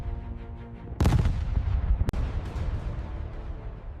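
Heavy naval gunfire from battleships: two big booming blasts about a second apart, each followed by a long rolling rumble that fades slowly.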